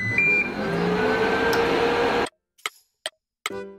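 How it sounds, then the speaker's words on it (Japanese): A microwave oven running at 600 watts hums steadily for a couple of seconds, then stops, followed by a few sharp clicks and a short series of beeps, while cooking an egg omelette. "まずは1分間電子レンジでチンをしましょう"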